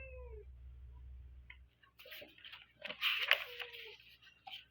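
A female cat meows repeatedly for attention indoors, with several short close calls and a longer drawn-out meow in the second half after a quiet stretch.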